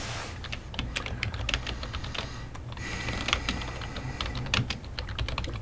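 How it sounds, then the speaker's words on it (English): Rapid, irregular clacking of keys on a computer keyboard, steady and close, with no voices. "as you're typing"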